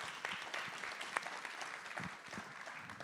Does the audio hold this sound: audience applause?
yes